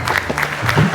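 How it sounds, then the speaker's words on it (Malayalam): Audience at a stand-up comedy show clapping in a steady, dense burst of applause lasting about a second, fairly loud, with faint voices mixed in. "അപ്പൊ നിങ്ങളെല്ലാവരും ഒന്ന് കൈയടിച്ച് ചിരിക്കണം കേട്ടോ."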